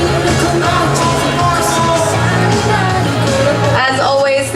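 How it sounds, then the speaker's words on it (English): Applause and cheering from a convention costume contest audience at Fall Kraken Con, a loud sustained crowd of clapping mixed with shouts and whoops, with voices audible within the roar. "Please, round of applause."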